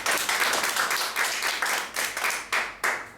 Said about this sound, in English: Clap for Jesus, clap for Jesus, clap for Jesus